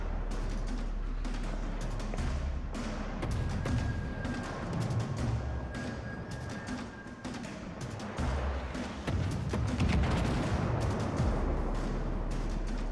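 Destroyer naval guns firing in World of Warships: Legends, repeated booming and cracking shots in quick succession over a dense rumbling battle background, continuous and fairly loud.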